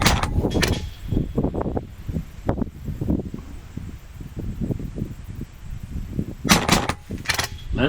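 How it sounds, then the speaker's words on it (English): A custom project gun firing in a two-shots-per-trigger-pull mode, giving close, sharp, rapid reports that come in quick clusters, with a pause and then another burst near the end. "That means that you push trigger once and it makes 2 shots, one by one."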